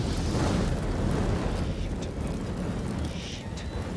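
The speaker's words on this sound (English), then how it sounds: "Got a little explosion going there, but that's neat." A rumbling, sustained explosion in the horror video game Until Dawn roars loudly with a deep, continuous low blast that slowly fades, and no voices are heard.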